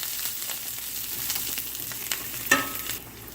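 Clams and parsley for a white clam sauce sizzle steadily in a pan, a close, even frying hiss with occasional stirring clicks and a sharp clink near the end.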